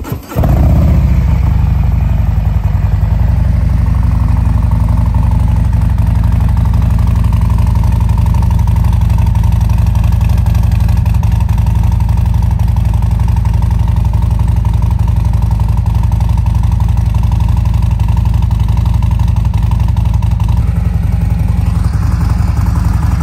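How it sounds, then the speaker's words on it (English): A 2022 Harley-Davidson Street Glide Special with a Screaming Eagle 131 Stage IV engine, gunship gray, cold-starts and settles into a loud, steady, deep rumbling idle close by, running continuously with no talking. "I wanted to give you that nice cold start before I head out on the bike."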